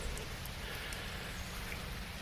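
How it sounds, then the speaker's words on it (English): Steady rain pattering outdoors around a 2020 Jeep Cherokee Limited, a soft continuous hiss of drops on surfaces with no talking. "But it's starting to rain again."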